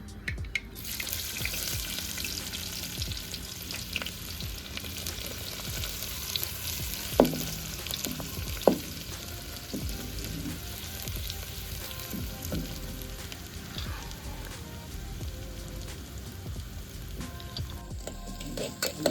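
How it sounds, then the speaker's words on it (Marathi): Chopped onion sizzles steadily in hot oil with cumin and mustard seeds, a dense continuous frying hiss broken by occasional scrapes of stirring, cooked over a wood-fired chulha on a terrace while making baingan bharta. "कांदा टाकला ना तो व्यवस्थित आपल्याला एकत्र असं लाल होत पर्यंत भाजून घ्यायचं"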